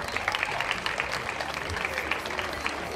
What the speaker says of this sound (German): Ein Applaus für den Herrn Kistner,